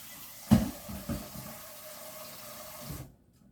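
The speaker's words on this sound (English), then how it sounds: "to drain my noodles and run cold water on them because I don't want them to start getting sticky" Cold tap water runs over cooked noodles as they drain in a kitchen, a sharp splash at the start followed by a steady, fairly quiet stream of running water that stops abruptly.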